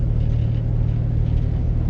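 A 1965 Ford Mustang engine rumbles at a steady low idle up close, a continuous deep throb with no talking.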